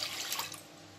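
Water poured from a cup into a vessel of washed chana dal, a brief splashing pour that fades into quiet, with no talk.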